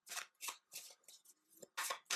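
Tarot cards being shuffled in several bursts of crisp riffling and rustling, each lasting a fraction of a second with short gaps between, close and fairly quiet, with no talking.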